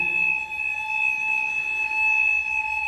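A false fire alarm sounds in an apartment block: a continuous, steady electronic tone with sharp high pitches, moderately loud and unbroken, no voices.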